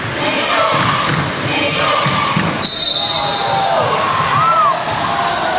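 A basketball bouncing on an indoor court during a national secondary-school semifinal, with rhythmic thumps under a loud crowd murmur, scattered shouts and a sharp whistle.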